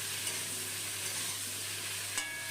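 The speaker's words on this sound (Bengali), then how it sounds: "প্রথমে গ্যাসটা হাই ফ্লেমে করে ঝিঙেটাও একটু ভেজে নেবো" Ridge gourd frying in a pan over a high gas flame, giving a steady, soft sizzle with a low hum underneath and one brief clink near the end.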